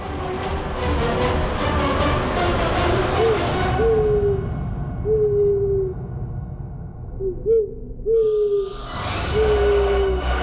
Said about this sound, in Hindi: पापा सच में काला उल्लू आ गया।